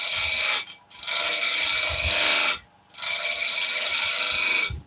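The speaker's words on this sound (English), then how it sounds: "We're going to do a nice upright cut first, and then slight tilt to the skew." A skew chisel cuts wood spinning on a lathe at about 1600 rpm while a cabriole leg is turned, giving loud, sustained scraping rasps in three long passes separated by brief pauses.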